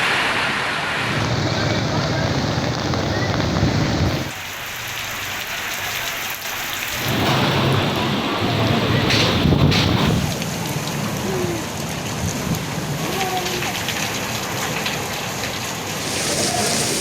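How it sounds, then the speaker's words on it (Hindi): Heavy monsoon rain pours steadily across a wide area, a dense continuous wash of drops on surfaces, with a brief lull near the middle; no clear thunder stands out, and a faint voice may sit underneath. "कश्मीर, गिलगित बल्तिस्तान, पंजाब, KP, सिंध और बलोचिस्तान के मुख्तलिफ इलाकों में जमकर बरसात।"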